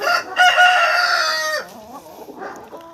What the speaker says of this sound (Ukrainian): Ось дивіться, дві курочки.